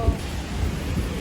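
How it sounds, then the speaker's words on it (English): Thunder and rain from a big storm in Milan, a dense low rumble beneath steady hissing rainfall, brief and fairly loud. "The big storm is coming."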